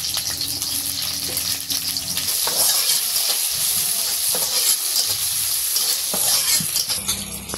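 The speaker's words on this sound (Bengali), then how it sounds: "কাঁঠালের তরকারি রান্না করার জন্য কড়াইয়ে পেঁয়াজ দিয়ে দিতেছে" Onions fry in a hot wok for a jackfruit curry, a steady, loud crackling sizzle that carries on without a break and with no talking.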